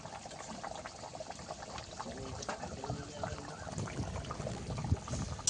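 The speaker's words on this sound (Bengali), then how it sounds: "তো সেই ভালোভাবে ফুটে গেছে, বেটে রাখা সর্ষেটা দিয়ে দেবো।" Ground mustard paste goes into a pot of water at a full boil for a fish curry with Malabar spinach, giving a steady close bubbling and liquid churn with light splashes throughout, and no talking.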